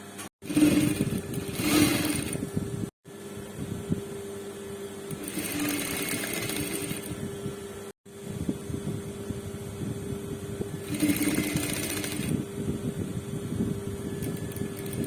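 A sewing machine stitches a plain blouse with double-line seams, running in steady bursts with short pauses between them, close and moderately loud with no talking.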